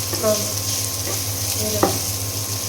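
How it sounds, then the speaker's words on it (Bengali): Cloves and black pepper frying in oil, a soft steady sizzle with a couple of faint stirring scrapes, close and continuous. "তেলের সঙ্গে খুব ভালো করে ভেজে নেব লবঙ্গ গোলমরিচ"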